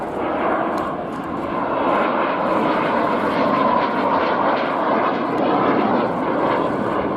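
Jet-powered BAC Strike Master aircraft flying at an air display at RNAS Yeovilton International Air Day, a steady loud engine roar holding constant throughout, with a faint voice briefly underneath.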